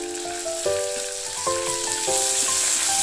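Crushed galangal and ginger sauté in hot oil for a Minang-style quail egg tauco curry, giving a steady close sizzle with a few stirring knocks.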